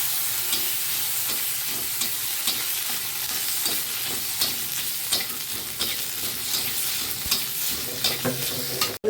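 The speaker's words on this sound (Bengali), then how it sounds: "এবার দিয়ে দেবো আদা বাটা।" Ginger paste fries in a spice tempering for a vegetarian ash gourd and dal shukto. It gives a loud, continuous close-up sizzle with regular scraping strokes of a stirring spoon all the way through.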